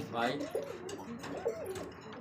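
Sobji pigeons coo in soft, repeated throaty phrases at close range, the calls quiet and set against a low background murmur.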